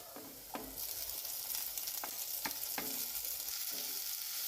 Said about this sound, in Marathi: त्यामध्ये आपण शिमला मिर्च टाकून घेऊया.